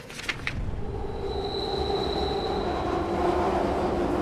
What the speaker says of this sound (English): We'll wait for this train to pass. It's fucking loud.